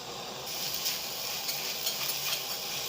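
Keema (minced meat) fries with garlic and ginger in a pan over medium-high flame, giving a steady, close hiss that swells slightly after the first half second and holds with faint crackle.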